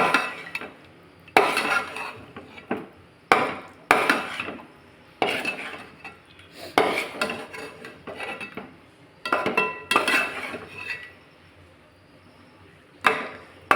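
A spoon scrapes and knocks against a pan while egg gravy is stirred, giving a series of sharp, irregular clatters with quiet pauses between them, close and distinct, with no voice over them.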